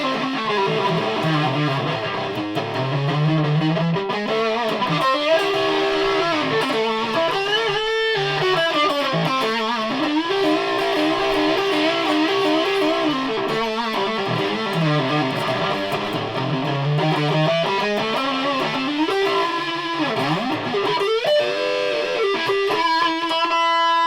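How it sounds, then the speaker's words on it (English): An electric guitar plays distorted sustained melodic lines on the bridge humbucker pickup, with bending, sliding notes and a continuous dense overdriven tone throughout and no talking. "Bridge pickup on distortion and humbucker mode."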